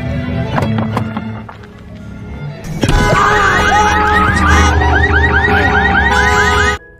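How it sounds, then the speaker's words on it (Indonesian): After a few sharp knocks as someone tries to force a car open, a car alarm blares with rapid warbling, chirping tones, loud and continuous, then cuts off abruptly. "membuka mobil secara paksa yang membuat alarm mobilnya berbunyi"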